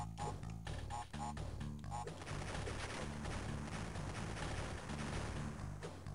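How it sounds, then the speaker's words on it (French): A rapid series of booming blasts and gunfire-like bursts, loud and dense, going off repeatedly throughout with little pause, in the video game Crash Bandicoot. "Que des explosions."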